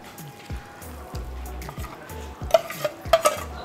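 Paneer is stirred into a buttery masala in a pan with a series of close, rhythmic scraping strokes and light clinks of the utensil against metal over a faint sizzle, with no one speaking.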